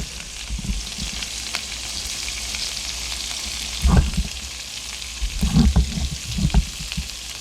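Butter melting and sizzling in a hot pan turned up high, a steady close frying hiss with a few louder crackling bursts.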